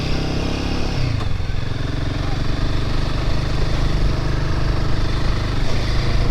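A motorcycle engine drones steadily while riding on risky roads in Meghalaya, loud and close throughout, with a brief shift in pitch near the start.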